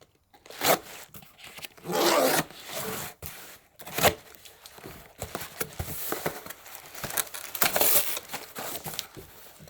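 Duct tape on a package being cut and pulled open, a series of irregular scraping, crinkling and tearing bursts, close and fairly loud, separated by short pauses.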